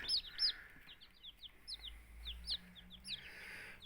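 Chicken chicks peep in quick, high chirps, several overlapping in bursts, close by with a faint low hum underneath.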